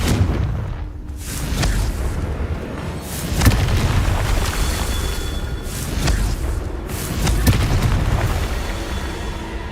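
Repeated booming blasts of a fire-blasting spell in a wizard video game, several loud explosive bursts spaced a second or two apart over a constant rumbling background.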